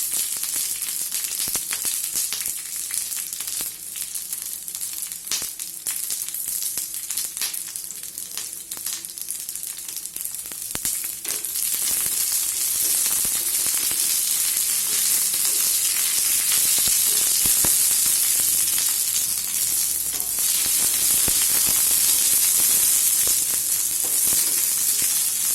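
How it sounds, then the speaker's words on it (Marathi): Green chillies roasting in oil on an iron tawa for a spicy fasting thecha, giving a continuous close sizzle and hiss that gets louder and denser about halfway through, with scattered stirring clicks and no voices. "आता जे हिरव्या मिरच्या आहेत ते तव्यामध्ये मी टाकणार आहे"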